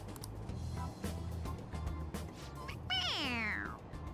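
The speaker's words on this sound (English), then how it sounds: "It meows when you press on its head." A stuffed toy cat lets out a single electronic meow when pressed, a short rising-and-falling cry heard near and clear over quiet background noise and soft clicks, from the video game Persona 5 Royal.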